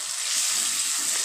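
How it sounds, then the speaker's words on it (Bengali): Cooking water from mutton curry is poured off into another container, a steady splashing gush heard up close for a moment. "মাংসের যে জলটা ছিল এটা আমরা একটা জায়গায় ঢেলে নেওয়া হচ্ছে"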